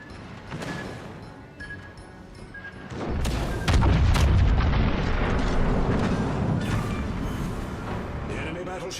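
Heavy warship guns fire in World of Warships, deep booms that rumble and swell into a loud sustained blast, with smaller pops and crashes around them.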